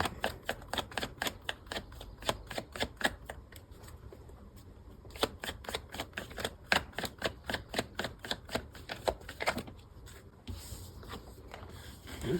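Tarot cards being shuffled and drawn, a rapid run of crisp papery riffles and flicks in close bursts, quiet and near, with a short pause midway.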